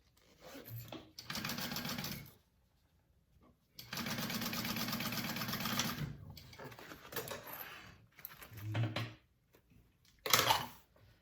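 A sewing machine topstitching a handbag hums in several bursts of varying length, close and steady, separated by short pauses and handling noises, with a brief voice in a gap.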